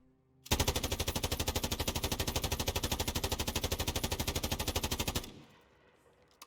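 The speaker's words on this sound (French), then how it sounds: "c'est eux qui te tirent dessus" Sustained automatic gunfire in the video game Call of Duty Warzone, a loud rapid burst of evenly spaced shots lasting several seconds before stopping abruptly, with no talk.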